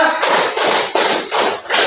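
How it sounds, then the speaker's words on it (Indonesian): A classroom of pupils claps in unison five times, a closely spaced, loud burst of even slaps heard alone during a teacher's counting game. "Ya terakhir tepuk 5."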